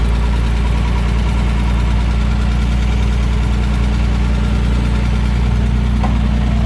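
A 1947 Dodge pickup truck engine idles steadily after starting, a loud, close, continuous low rumble with an even mechanical throb and no talking.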